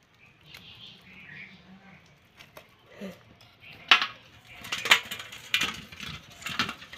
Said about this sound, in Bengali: কই মাছগুলি আমি ভালো করে কেটে নিচ্ছি।